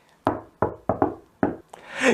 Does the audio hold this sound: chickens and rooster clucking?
no